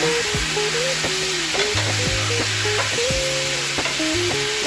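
Marinated banh mi meat fries loudly in a hot pan over high heat, sizzling in a dense, constant crackle with occasional stirring and scraping, close and without voices.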